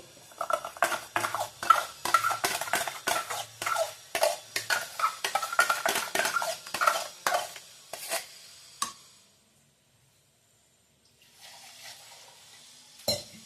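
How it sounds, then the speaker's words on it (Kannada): A spoon clinks and scrapes rapidly against the metal of a pressure cooker while ground masala paste is stirred into cooked fresh pigeon peas for sambar. The strokes come as quick, loud taps, then stop, leaving near silence and a faint clink at the end. "ಕುಕ್ಕರಲ್ಲಿ ಕಾಳು ಬೇಯಿಸ್ಕೊಂಡಿದ್ರಲ್ಲ, ಅದ್ರಿಗೆ ಮಸಾಲೆ ಹಾಕ್ಕೊತಾ ಇದ್ದೀನಿ ರುಬ್ಬಿರೋದೆಲ್ಲನೂ"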